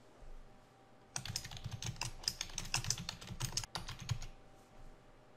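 Rapid typing on a computer keyboard while entering a slide title in Articulate Storyline 3, a dense run of close, crisp key clicks lasting about four seconds, with quiet before and after.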